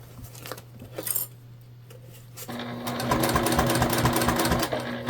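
Small handling clicks and taps give way to a sewing machine that starts midway and stitches a bulky sling bag steadily and close up until the end.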